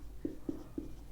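Chalk or marker strokes on a board during a maths class, three short taps or strokes spaced evenly about a quarter second apart, faint and close, with no talking.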